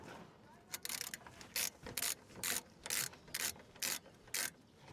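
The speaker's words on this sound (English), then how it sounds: "I'm just going to use a little ratchet on that, just to nip it up a bit more." Ratchet wrench clicking in quick repeated bursts while nipping up a brake caliper bolt on a Honda Civic Type R during a front disc and pad job, about eight close, sharp ratcheting strokes with short pauses between, no talking.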